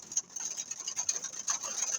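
Light rain patters in irregular taps and ticks, close by, with a thin steady high-pitched whine running underneath.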